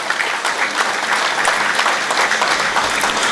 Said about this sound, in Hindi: मैं चाहूँगा सब जोरदार तालियां रज़िया आपा के लिए दें